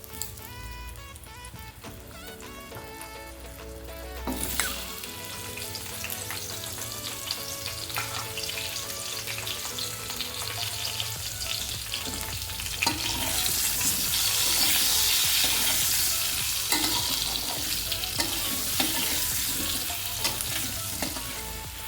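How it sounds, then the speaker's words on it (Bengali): Potato and cauliflower pieces frying in oil with salt and turmeric produce a loud sustained sizzle with scraping stirs and clinks, the hiss swelling stronger toward the later half, with no talking. "এখানে আলু আর ফুলকপি যেটা রয়েছে সেইগুলোকেও আমি এই তেলে সামান্য নুন আর হলুদ দিয়ে ভেজে নেব"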